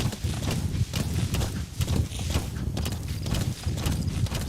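Horse hooves clip-clop steadily in Metal Gear Solid V: The Phantom Pain, a close, rapid rhythmic pounding of many hoofbeats over a dense low rumble, continuous for several seconds with no voices.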